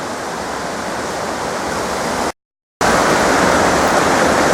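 Nakatsugawa river water flowing near its meeting with the Tomogawa, a loud, steady broadband rush heard up close and unbroken apart from a brief cut of silence midway.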